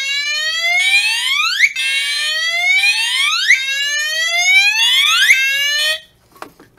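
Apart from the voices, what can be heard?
fire alarm set off by smoke detector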